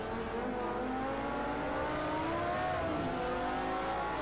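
A McLaren engine revs in a Porsche Legends Pack racing video game, a steady high whine climbing and falling through gears with no pauses, close and continuous, with no talking.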